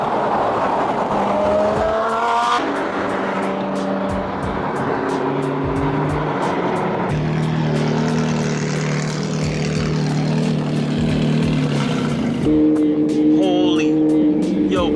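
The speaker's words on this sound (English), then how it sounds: "we're revving at him" A loud Ferrari sports car engine revs repeatedly in sharp bursts, with people talking and shouting over the roaring exhaust throughout.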